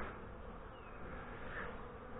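Faint, steady buzzing of yellow jacket wasps caught in an apple-baited trap, a low droning hum, continuous and slightly muffled.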